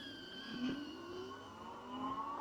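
An electric bike's rear hub motor pulls away from standstill, giving a faint whirring whine that rises steadily in pitch over a couple of seconds as it gathers speed, heard from some distance over light wind noise.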